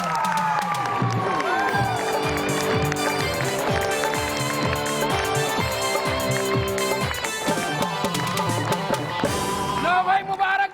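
A studio audience on a TV show welcomes guests with cheering and applause, a loud crowd swell mixed with music and rhythmic beats, lasting several seconds before easing off.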